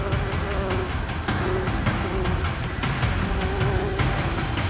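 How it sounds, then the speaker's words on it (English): A dense swarm of angry bees around a hive, a loud, continuous buzzing drone that fills the whole stretch without pause. "thousands of angry bees are no deterrent"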